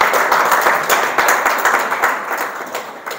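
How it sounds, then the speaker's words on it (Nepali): Church congregation clapping to welcome one another, a steady burst of many hands applauding together, close and fairly loud, with no talk over it. "एकले अर्कालाई ताली बजाएर हामी स्वागत गर्नेछौँ।"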